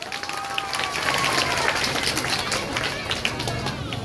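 Applause from an audience at a Shiv Sena birthday felicitation function, dense steady clapping from a crowd filling the whole stretch at close range, with some crowd noise mixed in.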